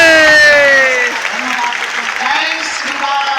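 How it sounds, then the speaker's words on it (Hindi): Crowd at Bageshwar Dham clapping loudly in welcome of guests, a dense sustained wash of applause with voices and tonal sounds layered over it, strongest at the start and steady throughout. "हम सब बहुत जोरदार ताली बजा करके सबका स्वागत करते हैं"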